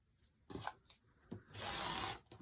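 Quilting fabric, a Free Spirit natural-colored solid, being cut and trimmed: several quiet, short rasping cuts, then one longer steady rub-like cut, close and soft with no talk.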